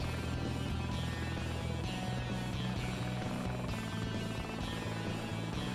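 A scout helicopter in the Heliborne combat flight game drones with a steady rotor hum and engine whine, constant and loud throughout with no talking.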